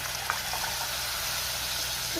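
Water poured from a mixer jar into a hot pan of fish curry sizzles steadily, a dense hiss that continues unbroken for a couple of seconds.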